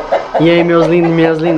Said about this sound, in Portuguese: Tem um galo gritando aqui